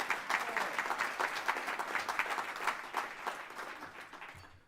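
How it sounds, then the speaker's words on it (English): A lecture audience breaks into sustained applause, a thick roomful of clapping hands holding steady for several seconds before tailing off toward the end, with no speech heard. "you can clap there, that's fine"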